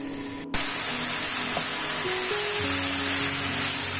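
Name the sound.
stir-frying chicken spring roll filling in a pan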